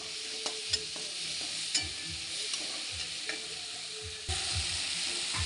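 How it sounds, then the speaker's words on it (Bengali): Tomatoes frying in a pan with salt and turmeric, a steady close sizzle broken by repeated scraping strokes of a spatula as they are stirred, growing louder near the end. "টমেটোগুলো যতক্ষণ না গলে ততক্ষণ ভাজতে থাকবো।"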